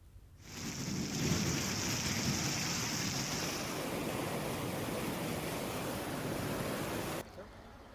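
Heavy rain pours over villages in the Sihor area of Bhavnagar as a dense, steady hiss of downpour that begins abruptly and holds for several seconds, with a low rumble underneath.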